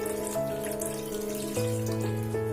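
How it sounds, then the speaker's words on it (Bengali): Lukewarm water running into a cooking pot for a Bengali rui fish curry, a steady continuous pour with tonal gurgling that shifts in pitch partway through, close and fairly quiet with no talking. "হালকা গরম জল আমি এর মধ্যে দিয়ে দিলাম।"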